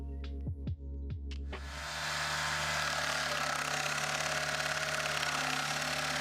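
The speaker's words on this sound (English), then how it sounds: "The stump grinder grinds stumps with relentless precision." A stump grinder's engine starts up with a few sharp bursts, then settles into a steady, loud, continuous roar as it grinds a tree stump.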